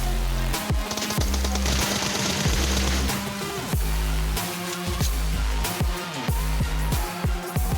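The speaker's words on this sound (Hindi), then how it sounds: "ग्रेनेड करता हूँ मैं, और देखिए कितना प्यारा ग्रेनेड था ये।" A grenade thrown and exploding in PUBG Mobile, within dense, loud game audio full of repeated sharp gunfire-like impacts and booming blasts.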